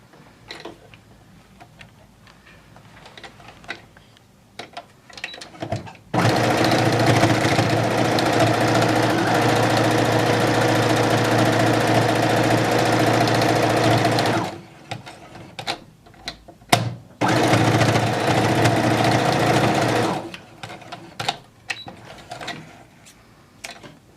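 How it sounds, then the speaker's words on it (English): A sewing machine stitches fleece gloves down the side and around the thumb, running loud and steady for about eight seconds, then again in a shorter burst after a pause. Quieter handling clicks and rustles come before, between and after. "we're going to sew down this side and then around this side and around the thumb."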